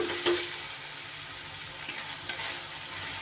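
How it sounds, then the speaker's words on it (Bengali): Onion, tomato and chili powder masala is sautéed in a pan as a soft, even sizzle with a few light stirring scrapes, quiet and steady without any voices. "সুন্দর করে কষিয়ে নেব যেহেতু পেঁয়াজ টমেটো সব দেওয়া আছে"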